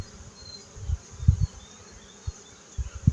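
Honeybees at an open hive during a beekeeping inspection make a faint, steady buzz, with soft low thumps and handling knocks from the frames scattered through it.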